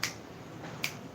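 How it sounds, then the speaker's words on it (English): A single finger snap made with one hand, crisp and close, followed by a second sharp snap a moment later, both alone in a quiet room. "One hand can snap"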